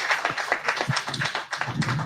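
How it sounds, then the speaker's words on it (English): Audience applause at a business forum launch event, a dense patter of clapping hands filling the room steadily for a couple of seconds. "A round of applause."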